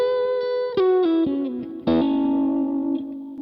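An electric guitar with a clean, warm tone rings out single sustained notes and a few sliding steps, with a strong attack near the middle and effects-laden ringing decay between notes.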